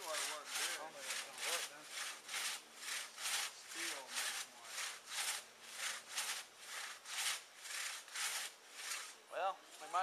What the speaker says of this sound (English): Smooth cut on that tree, Ben.